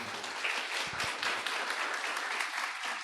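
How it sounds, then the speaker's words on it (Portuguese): A church congregation gives a short burst of steady applause during a Portuguese-language worship service, the clapping full and even for about three seconds. "Dê uma salva de palmas para Jesus."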